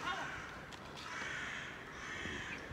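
Seagulls call while being fed, with harsh, overlapping squawks and cries close by over a noisy, murmuring outdoor background. People can be heard talking faintly among the birds.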